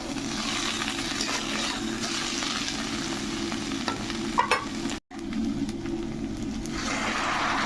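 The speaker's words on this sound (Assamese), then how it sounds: "অলপমান এনেকুৱা ৰঙচুৱাকৈ ভাজিছোঁ" Bitter gourd and fish frying in a pan without water in a village kitchen, browning lightly: a steady, close sizzle that runs throughout, with a brief dropout just past the midpoint.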